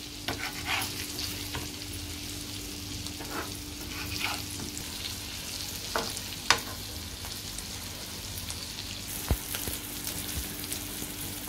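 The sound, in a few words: semolina-coated jitada fish slices frying and flipped in pan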